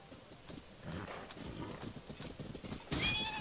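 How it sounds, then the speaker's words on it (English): Wild horses in Zelda: Tears of the Kingdom, hooves clip-clopping at a gallop with a sharp neigh near the end, fairly quiet and steady throughout. "Oh, look at all these wild horses."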